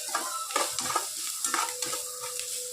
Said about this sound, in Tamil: இது நல்லா வெங்காயம் வதங்கி வரட்டும்.